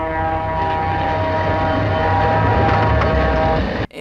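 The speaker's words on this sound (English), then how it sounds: "Robert Swanson was busy making diesel air horns sound less like this" An older, harsh-toned diesel locomotive air horn sounds one long, continuous, loud blast with a rough, buzzy chord that holds steady for nearly four seconds and then cuts off abruptly.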